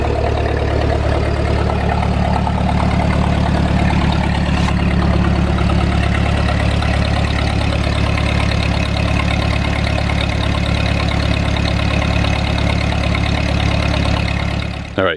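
A tractor engine idles steadily and loudly, a continuous low rumbling drone held throughout with no pauses, outdoors on a warm sunny March day.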